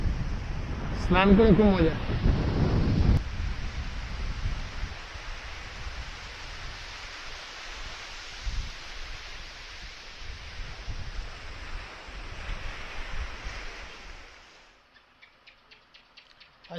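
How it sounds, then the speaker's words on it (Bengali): Large ocean waves at Mirissa, Sri Lanka, on the Indian Ocean: a broad, steady surf roar that swells and eases before fading out near the end, with a person speaking briefly at the start. "এখানে ঢেউ বিশাল বড় বড়,"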